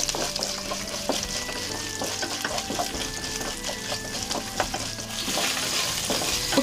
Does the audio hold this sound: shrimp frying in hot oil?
yes